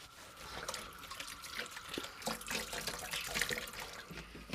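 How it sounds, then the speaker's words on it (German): Water running from a tap into a metal kettle for washing in a ski hut, a continuous splashing, trickling stream with fluctuating gurgles, close and moderately quiet, no talking. "Waschen tue ich, das ist mein Kessel. Und da tue ich einfach Wasser drin."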